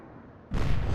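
Naval gunfire explosion in the video game Atlantic Fleet: a single loud, close boom bursts in halfway through and holds as a heavy rumble after a quieter stretch.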